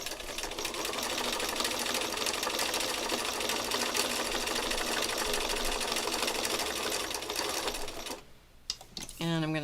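A sewing machine stitches back over earlier stitches on a small sewn piece, running as a loud, steady, continuous whirr for most of the time before stopping near the end, where a brief voice comes in.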